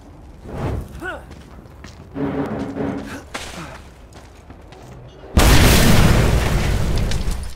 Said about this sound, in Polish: Pięknie się patrzy na te eksplozje.